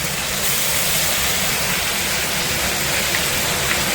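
Green chili paste sizzling in hot oil with tomatoes and five-spice seeds, a loud, steady hiss of frying that runs unbroken throughout and sits close.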